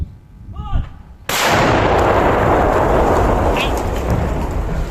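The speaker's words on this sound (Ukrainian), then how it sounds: "Гармата, вогонь." A single heavy artillery gun blast, from a 1986 gun on the front line, erupts after a brief quiet moment, followed by a long rumbling roar and debris-like rushing noise that fills the rest of the clip.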